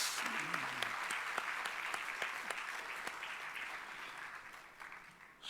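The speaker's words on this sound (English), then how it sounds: "give a big round of applause to the lecturers" An audience at a convocation ceremony applauds the lecturers with steady clapping that slowly fades toward the end. No one speaks.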